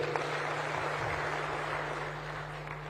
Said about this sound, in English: A hand clap for her again.